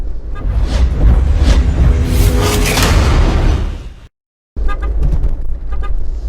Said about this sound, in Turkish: Son bir korna çalıyor o çok önemli.